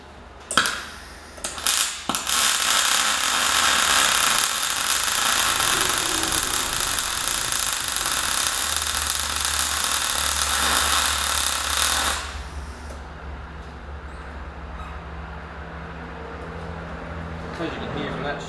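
MIG welding with a Mag Mate 150 inverter welder: a close, steady crackling hiss runs unbroken for about ten seconds after a few sputtering starts, then cuts off to a quieter hum.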